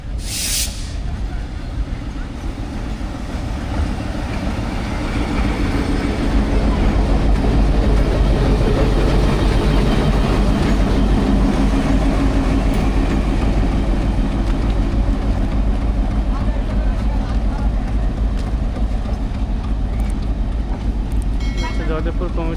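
The Brahmaputra Express passes at a station in Bangladesh, a broad loud rumble of rolling stock that swells after a few seconds and holds steady, with faint talk near the start.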